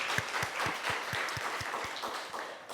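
A church congregation applauds in praise during a worship service, a sustained wash of many hands clapping together in a steady rhythmic beat, full and fairly close, with no talking over it.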